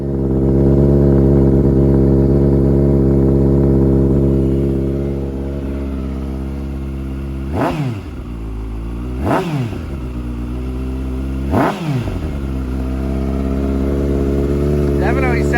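A Kawasaki Ninja ZX-6R sport bike with a reflashed ECU idles loud and close, its engine revving sharply three times in quick, evenly spaced bursts before settling back to a steady idle.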